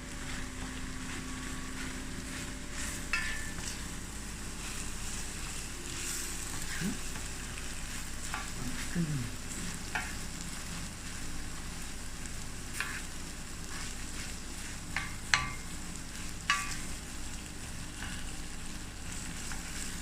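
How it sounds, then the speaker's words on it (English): Mussels and sticky rice sizzle steadily in a hot pan, a continuous even frying hiss with a few faint clinks and scrapes of stirring, with no voices. "And now we're just going to stir fry this,"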